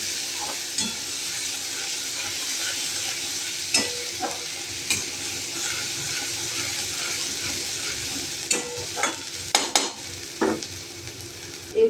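A paste of ground garlic and onion fries over low heat for Bata fish, a steady soft sizzle with occasional spatula stirs and light clinks throughout, no talking.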